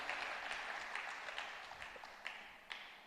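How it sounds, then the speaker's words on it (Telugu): A church congregation claps together at a worship service, a faint, distant wash of applause with scattered sharper claps that slowly fades. "ఒకసారి బిగ్గరగా చప్పట్లు కొడుతూ ప్రభు"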